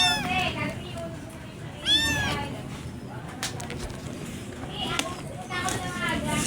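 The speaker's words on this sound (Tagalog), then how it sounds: "ipapakita ko na nga lang din pala sa inyo yung pusa" A house cat meows several times at night, the drawn-out cries coming near and clear, with a second, later burst of meowing. A person talks and makes soft sounds around it.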